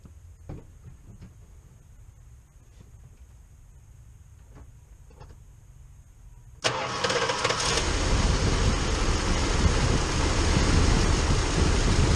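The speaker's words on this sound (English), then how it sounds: "I'm gonna go ahead and start the car. You all can watch it start up from in the engine bay" A Chrysler car is heard from the engine bay during an oil change: a quiet stretch with faint clicks, then the starter catches and the engine fires into a loud, steady, close running sound.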